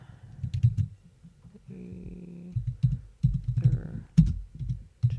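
Someone types a world seed on a computer keyboard, producing bursts of quick, close key clicks in an irregular rhythm, separated by brief pauses.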